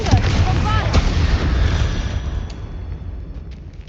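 Sharp magical blast of the Bombarda explosion spell in Hogwarts Legacy, one loud booming burst that rumbles and fades over a few seconds.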